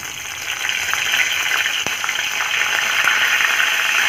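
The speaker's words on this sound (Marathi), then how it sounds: "आता मी ह्यात कढीपत्ता घालत आहे।" Curry leaves hitting hot oil already crackling with mustard seeds and cumin, a loud, close, continuous spluttering sizzle with a few sharper pops and no talking.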